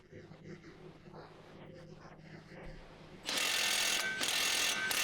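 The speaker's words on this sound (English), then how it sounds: "thread on the nut so you can tighten it with an 18mm socket" A ratchet with an 18mm socket tightens a ball joint nut on a Chrysler upper control arm, starting with quieter handling noises and then turning into a loud, steady broadband burst near the end, with a brief dip partway through.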